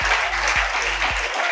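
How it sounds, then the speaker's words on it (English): An audience at a debate championship grand finale claps steadily, dense even applause filling the whole moment with a couple of low thumps underneath. "please give them a rousing round of applause."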